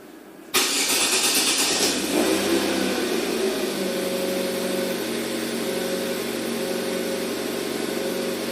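A 2011 Chevrolet Aveo with an overheating fault cranks briefly and fires up, then settles into a steady, even idle that runs on close and unbroken with no talk.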